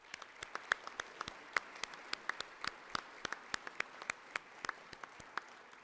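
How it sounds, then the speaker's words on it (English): A conference audience gives a closing round of applause in a large hall, with moderately faint, sparse claps that stand out sharply over a soft patter of clapping. "One more round of applause"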